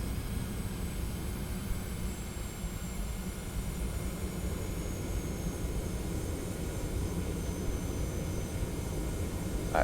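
An aircraft engine in the Prepar3D flight simulator drones as a steady, broadband cabin roar with a faint high whine, unchanging and continuous throughout.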